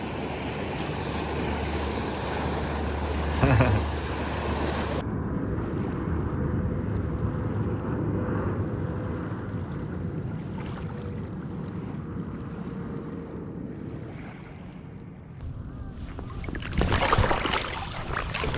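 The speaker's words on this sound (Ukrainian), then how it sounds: "Дивіться, пропливається кораблик цей." A small boat passes on the sea off the coast of British Columbia near Vancouver, with a steady wash of waves and wind, a low engine rumble and water slapping, and a louder surge near the end.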